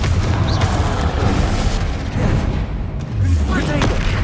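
Repeated booming spell blasts from Hogwarts Legacy combat, several thudding explosions with crackling debris over a busy battle din, fairly loud and close, with brief voice fragments mixed in.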